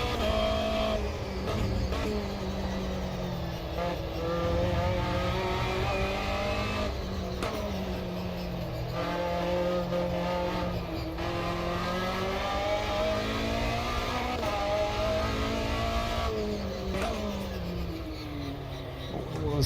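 A Porsche race car in the Automobilista 2 racing game revs hard through the gears, its engine note climbing and dropping repeatedly across the run, loud and close with no talk over it.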